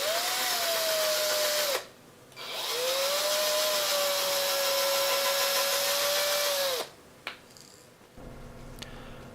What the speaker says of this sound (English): drill the holes for the hook hangers